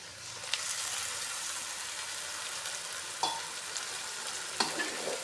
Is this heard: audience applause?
no